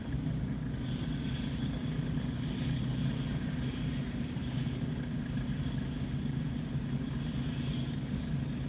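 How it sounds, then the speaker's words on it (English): Constant loud engine drone with a low rumble and a steady whine, like a helicopter idling nearby before liftoff, with no voices. "you can see the helicopter getting ready to take off."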